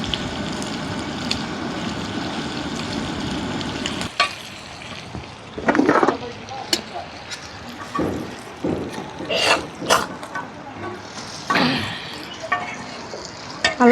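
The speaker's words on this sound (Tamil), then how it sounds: "நல்லா சூப்பராக கனவா எல்லாத்தையும் பொரிச்சாச்சு." Squid rings sizzle and spatter in hot frying oil with a steady crackle for about four seconds, then sharper clicks and scraping knocks of stirring and handling punctuate a quieter, intermittent sizzle.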